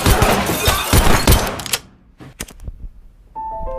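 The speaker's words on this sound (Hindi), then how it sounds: "हान यहाँ पर उसके साथ धोखा करने के लिए मंचोल को गोलियों से भून देता है" Gunfire from a movie shootout, in which a man is riddled with bullets, crashes out as a loud, rapid volley for nearly two seconds, then gives way to a few scattered, fainter thuds and quiet.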